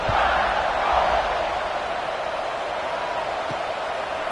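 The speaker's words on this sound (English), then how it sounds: "this crowd is buzzing after that last score" A football stadium crowd at a Virginia Tech game on wet turf keeps up a loud, steady buzz after a score, with an announcer talking faintly over it.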